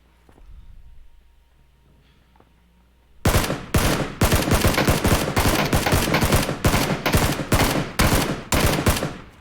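Rapid bursts of shotgun fire from PUBG, a dense run of loud close blasts that starts suddenly after a few seconds of quiet and keeps going almost without pause to the end.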